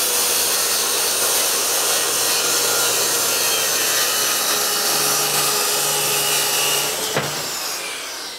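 Cordless drill driving screws into an IKEA kitchen cabinet panel, a loud continuous close-up whine with grinding wood friction that cuts off sharply near the end.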